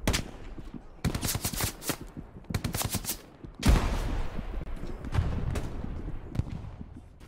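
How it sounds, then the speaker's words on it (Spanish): Gunfire in the WWII shooter Hell Let Loose during a street fight: sharp bursts of automatic rifle and machine-gun fire, several separate volleys, then a louder close shot followed by scattered, more distant cracks. "No sé quién dispara."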